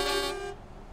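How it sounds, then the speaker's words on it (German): A truck horn in Euro Truck Simulator 2, sounded from a new IVECO truck, gives a loud, sustained tonal blast for about half a second and then fades away. "Und jetzt ist die Hupe immer so laut."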